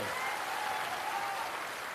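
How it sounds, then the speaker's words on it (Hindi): Steady, dense applause from a large crowd at a political rally in Tarapur, continuous and even throughout with no voices breaking through. "एक बार इनके लिए जोरदार ताली बजाइए"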